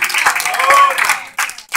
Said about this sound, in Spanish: Denle ese aplauso a la gloria del Señor Jesucristo, a su nombre.